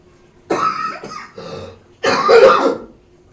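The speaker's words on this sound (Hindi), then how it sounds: "हाँ सॉरी, थोड़ा सा है खांसी" Two rough, close coughs, the first stretched into a short double hack, the second louder and harsher, in a quiet room.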